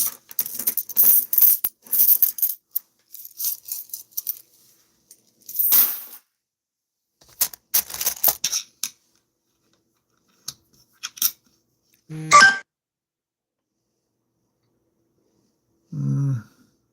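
Quarters handled and dropped onto a table while hunting for error coins, giving scattered metallic clinks and short rattles in bursts, with quiet gaps and a couple of louder isolated drops near the end.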